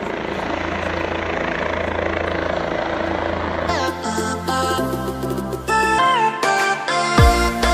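Helicopter at the Kedarnath helipad, a steady loud rotor and engine roar filling the first half, then mixed with busier tonal sounds and crowd noise toward the end.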